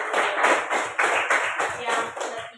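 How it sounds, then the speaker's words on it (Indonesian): Classroom applause from a group of pupils, a brief burst of steady, close hand claps pulsing in a quick regular rhythm for under three seconds, with no talk over it. "Tepuk tangan yang meriah"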